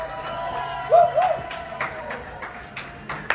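A crowd at an iPhone 14 Pro Max pickup event in Seattle claps and cheers, with a whoop rising early and scattered claps and shouts continuing over a murmuring background.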